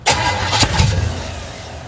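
A 1937 Dodge Brothers car engine cranks and catches, with a loud burst of starting noise followed by a low, steady idle close by.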